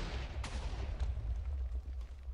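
A TNT cannon fires in a video game, producing a dense, rumbling run of deep explosive booms with a couple of sharper blasts standing out, loud and continuous with no talking.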